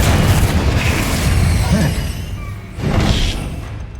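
A Confringo fire spell detonating in Hogwarts Legacy, two deep booming blasts a couple of seconds apart with a rumbling tail, while a voice speaks over the first.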